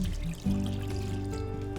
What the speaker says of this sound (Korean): 고기 찢은 냄비에 육수 2컵 부을 거고요.